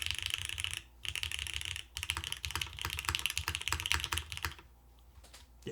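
Mechanical keyboard switches on a Class 100 board with its top mount installed, typed in quick continuous bursts of sharp clacks with brief pauses, close and loud, no talking.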